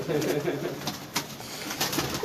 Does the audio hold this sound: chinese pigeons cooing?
yes